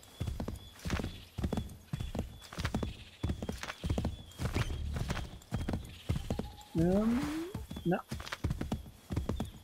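Horse hooves clip-clop in a steady, rapid rhythm as a mount gallops downhill in Assassin's Creed III, with a whinny near the end, under intermittent talk.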